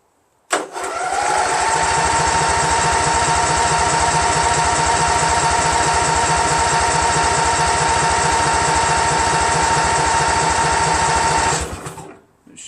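Briggs & Stratton Vanguard 16HP engine on a Craftsman GT6000 garden tractor fires up and runs at a steady, loud, rapid idle chug for about eleven seconds before cutting off, with no talking.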